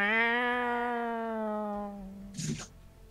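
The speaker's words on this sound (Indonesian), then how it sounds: "Kayak ada kucing berantem." A cat gives one long, drawn-out meow during a PUBG match. The meow falls slowly in pitch over about two seconds and is followed by a short rough burst of noise.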